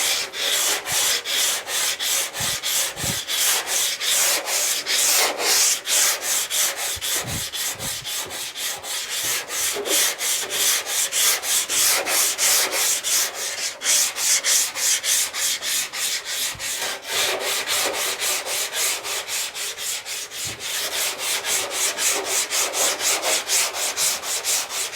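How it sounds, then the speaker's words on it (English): Hand sanding on a mini truck body panel during a bagged mini truck build, a steady back-and-forth rasping rub repeated in fast even strokes, close and loud, with no voices. "just on that few seconds of sanding"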